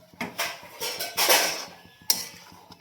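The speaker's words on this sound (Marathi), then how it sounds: "डाळ टाकली, आता हलवून घेते चांगली." Dal and chopped dill greens stirred with a utensil in a kadhai, giving a series of close scraping and clattering strokes of metal against the pan, several bursts in a loose rhythm with no talking.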